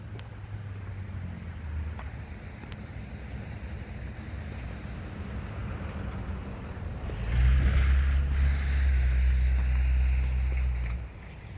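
A car passes on a rural road. A faint low hum grows into a louder, close rumble in the last few seconds and then drops off sharply.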